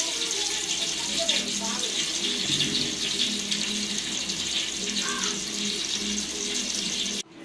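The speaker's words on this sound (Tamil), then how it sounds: "3 கிலோ அரிசிக்கு 3/4 கிலோ எண்ணெய் ஊற்றுறேன்." Cooking oil pours into a large pot for chicken biryani, three quarters of a kilo for three kilos of rice, a steady gushing stream that runs continuously, then cuts off abruptly, with talk over it.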